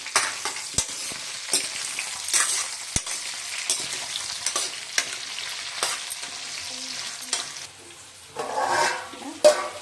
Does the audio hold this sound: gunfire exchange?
no